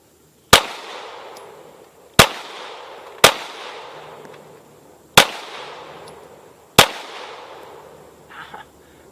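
Five sharp 9mm shots from a Glock Gen 4 G17 pistol, each a loud crack with a short ringing decay, fired at uneven intervals with no talking.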